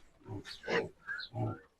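Pigs on a village farm grunt and oink close by in a few short, loud bursts, with no one speaking over them.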